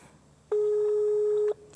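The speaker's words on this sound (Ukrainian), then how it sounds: "І телефонуємо. Включаємо динамік на повну гучність і чекаємо зворотнього зв'язку." A steady telephone call tone plays through a loudspeaker at full volume while a prize-draw winner is being dialed: one long, loud, even beep lasting about a second, standing alone over quiet background hiss.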